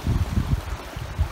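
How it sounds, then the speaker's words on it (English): Water of a brook fed by a waterfall near Glendalough Lake rushes in a steady low rumble outdoors, with soft surging pulses and no talk over it. "I think we're approaching a brook or something."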